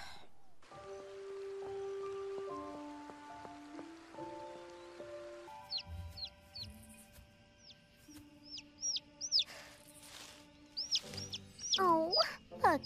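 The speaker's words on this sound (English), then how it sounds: "Oh, look, a baby bird." After a short musical passage, a cartoon baby bird's thin, high-pitched chirps repeat in quick bursts, with a few voices chiming in near the end.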